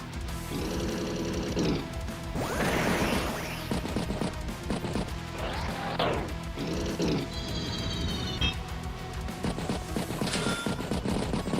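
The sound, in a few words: artillery strike in Advance Wars video game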